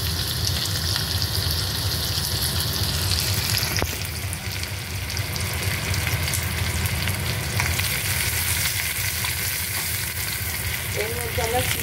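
Chopped onion, garlic and chilli fry in a hot pan with a loud, steady sizzle throughout, and a brief scrape of stirring partway through.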